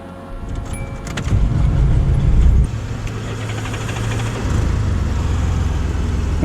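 A Volvo XC70 engine running with a loud, steady low rumble that surges in a couple of rev steps, heard up close without talking.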